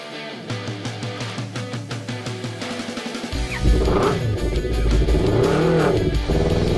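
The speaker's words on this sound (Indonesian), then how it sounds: "Ini kita buat sekarang di dyno test." A superbike engine on a dyno test revs hard and steadily, rising and falling in pitch with a loud, continuous roar and no talking.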